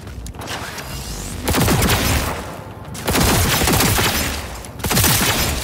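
Bursts of gunfire in the video game Cyberpunk 2077: three loud rapid volleys of shots, each lasting about a second or more, separated by short quieter gaps with a low background rumble.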